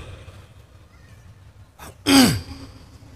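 After near silence, one sharp, brief cough with throat clearing breaks out and then fades quickly.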